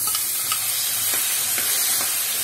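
Chopped tomatoes sauté in a pan for veg macaroni, giving a steady close hiss and sizzle with faint stirring scrapes at intervals.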